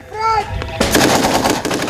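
Gunfire in a firefight behind enemy lines as SAS soldiers are contacted by local militia after a mine explosion; a brief tonal cry gives way to a loud, dense burst of rapid shots and crackling fire.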